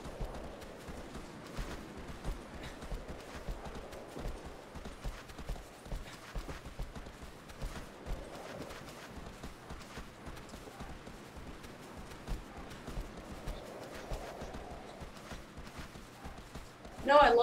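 Horse hooves gallop in a steady, rhythmic clip-clop that runs throughout, over a soft background ambience in the video game Shadow of the Colossus.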